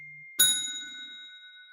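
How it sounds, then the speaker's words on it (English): A phone notification gives a single bright ding that rings out and slowly fades, after a faint low hum. "My phone is dinging off the hook"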